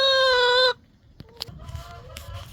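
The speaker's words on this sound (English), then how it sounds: "So Lacey is, I think, our smallest chicken" Chickens in a backyard coop give a loud, sustained harmonic squawk for under a second, followed by quieter scattered clucks and rustling.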